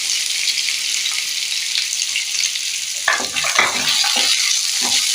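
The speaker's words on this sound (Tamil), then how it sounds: "இப்போ இந்த வெங்காயம் நல்லா வதங்கி வரட்டும்" Sliced onions sautéing in a pan for onion rice give a loud, close, continuous sizzle, with a few scraping stir strokes toward the end.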